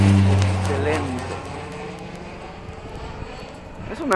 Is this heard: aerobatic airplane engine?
yes